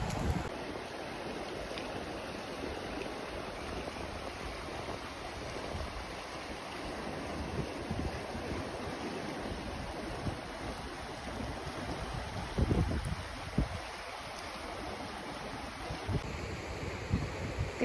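A river in Roosevelt National Forest rushes steadily during fly fishing, a broad continuous wash of flowing water with some wind buffeting, fairly close and loud throughout.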